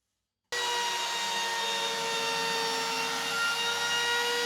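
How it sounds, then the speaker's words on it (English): A trim router fitted with a chamfer bit cuts along plywood edges, a loud, steady high-pitched motor whine with cutting noise that starts abruptly after a brief silence and holds for several seconds, no talking. "With a chamfer bit in my trim router, I tackled the edges"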